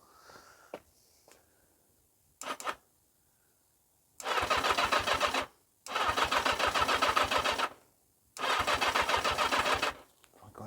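A 1980 Yamaha XJ650 motorcycle engine cranks in three separate loud, rhythmic bursts of about a second and a half each, close up, after a few faint clicks and handling noises.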